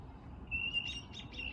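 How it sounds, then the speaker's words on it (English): Small birds chirping outdoors at a fishing spot in Colorado, faint high tweets and trills over low wind and rumbling background noise. "These birds are going crazy out here."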